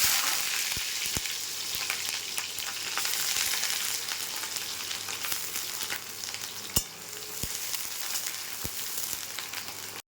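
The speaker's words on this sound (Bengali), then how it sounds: "অন্য একটা কড়াইয়ে তেল বসিয়ে দিয়েছি, গোটা মশলা দিয়ে দিচ্ছি, পেঁয়াজ দিয়ে" Sliced onion and whole spices frying in oil in a wok give a continuous close sizzle, punctuated by several sharp clicks and taps of a utensil against the pan.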